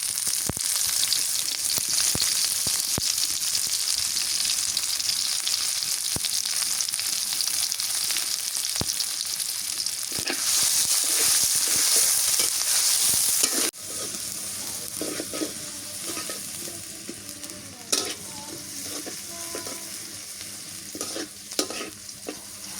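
Chopped onion fries in hot oil with a bay leaf and whole spices, stirred steadily; a loud, continuous crackling sizzle with repeated spoon scrapes eases to a quieter simmer about halfway through.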